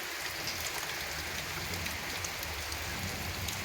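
Steady rain falls on surfaces nearby, an even, dense hiss of drops with no pauses and no voices, near a John Deere 2264 combine.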